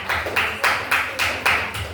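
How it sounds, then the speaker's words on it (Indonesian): A classroom group claps together in a steady rhythm, about five bright bursts at an even pace, close and fairly loud with no talking over it. "Kelompok kasih kita tepuk tangan semuanya"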